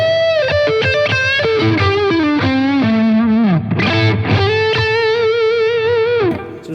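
Donner DLP-124S Les Paul-style electric guitar played on the neck pickup through heavy distortion, a loud stream of sustained notes and bends with a few quick runs, alone.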